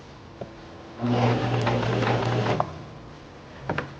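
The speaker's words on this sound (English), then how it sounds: "Press the foot control and sew forward a few stitches." A Singer Simple sewing machine runs forward stitches for about a second and a half, a steady close motor whir with rapid needle ticking, followed by a few faint clicks and taps.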